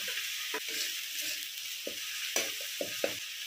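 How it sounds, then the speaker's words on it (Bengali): Garlic, onion and ginger paste frying in hot oil, a steady bright sizzle throughout, broken by several short scraping stirs of a spoon in the pan. "ওই তেলেতেই আমি মশলাটা কষিয়ে নেব।"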